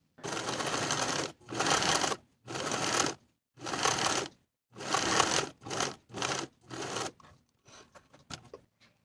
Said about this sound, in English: we're going to sew basting stitches from one side of the seam all the way around